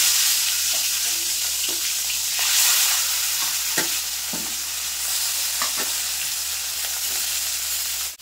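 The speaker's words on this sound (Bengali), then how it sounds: "তো এই মাছগুলো কিন্তু একইভাবে লাল লাল করে ভেজে নেব।" Pieces of fish frying in hot oil in a pan, a constant loud sizzle with occasional scrapes and stirring clunks as the pieces are turned, no voices.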